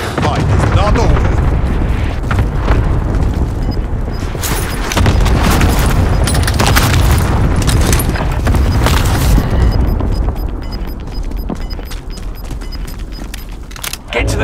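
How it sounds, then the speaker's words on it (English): Airstrike explosions in Call of Duty: Warzone rumble and boom heavily through a loud, dense battlefield mix, with deep blasts swelling and fading over continuous noise. "Airstrike approaching town."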